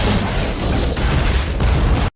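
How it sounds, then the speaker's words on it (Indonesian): Bomb blowing apart a passenger train carriage in a film, a loud, dense roaring blast that rumbles and crackles for about two seconds before cutting off abruptly. "seseorang menekan tuas bom dan meledakkan gerbong penumpang"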